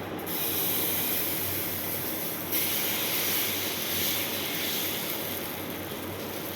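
Rice and urad dal dosa batter is spread across a hot stone griddle, giving a steady, even sizzling hiss throughout with no talk over it.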